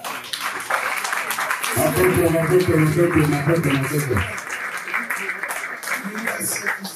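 Guests at a traditional Congolese-Cameroonian wedding break into a few seconds of applause for the groom, clapping under and around ongoing talk from an emcee.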